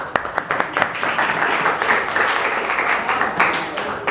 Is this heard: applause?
yes